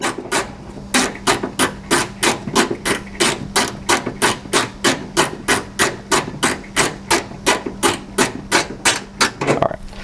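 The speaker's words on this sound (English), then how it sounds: "And then we'll use this wrench again to tighten these." A ratcheting wrench tightens the tail light nuts on a 2016 Dodge Dart SE, giving about twenty sharp, evenly spaced clicks in a steady rhythm, close and loud.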